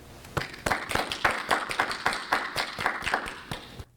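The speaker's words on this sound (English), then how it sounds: "Let's give them a round of applause." Hands clap in a steady, evenly spaced rhythm at a 2020 university commencement ceremony, with sharp, close claps for about four seconds and no talking.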